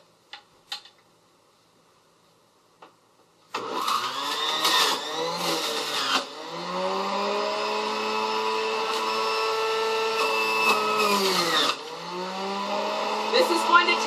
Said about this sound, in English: This is going to take a minute because of the juice extractor.